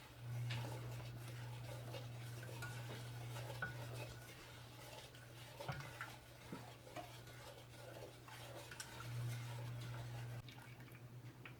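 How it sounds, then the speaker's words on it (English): Pecans being stirred in a pot over medium heat, with a spoon scraping and clinking steadily against the metal for the whole stretch, close by, and no one speaking. "We're going to give this a stir."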